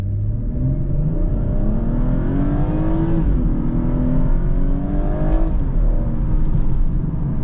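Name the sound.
BMW 440i launch control at full throttle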